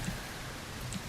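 Steady rain falling in the dinosaur survival game The Isle, a continuous soft hiss with faint ticks of drops, low and even throughout.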